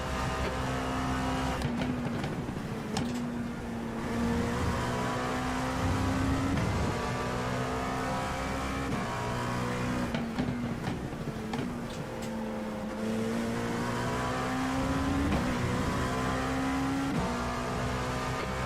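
Race car engines in the iRacing simulator at Road America, loud and continuous with rising and falling revs, repeated upshifts and downshifts, and the odd tire squeal, playing with no talk over it.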